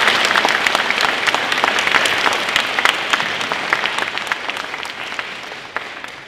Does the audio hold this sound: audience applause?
yes